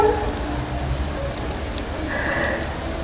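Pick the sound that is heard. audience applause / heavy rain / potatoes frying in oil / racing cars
heavy rain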